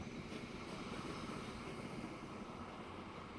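Rumbling train from the video game Transport Fever 2, a steady broadband roll with low-end weight that holds evenly throughout, no voices over it.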